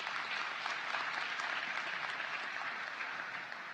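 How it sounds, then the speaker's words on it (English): A commencement audience breaks into sustained applause, a dense and steady wash of many hands clapping throughout, tapering slightly toward the end. "Please give a round of applause for all of our partners."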